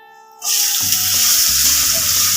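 Carrots dropped into hot oil with melted, golden sugar, setting off a sudden loud, steady sizzle that keeps going without a break, close up and with no talk over it.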